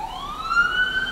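A single wailing siren from an emergency vehicle, rising steadily in pitch and heard clearly and fairly close, with no talking over it.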